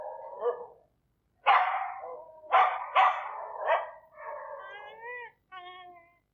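Dogs at Battersea Dogs Home let out several separate barks and yelps, then rising whining howls, each burst clear and close with short silent gaps between.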